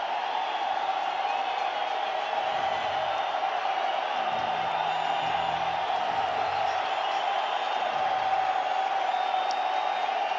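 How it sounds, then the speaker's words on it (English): Crowd at University Stadium during a college football game, a steady far-off roar of many voices swelling through the stands as a third down unfolds, with an announcer's voice faintly underneath. "Crowd getting into it here at University Stadium"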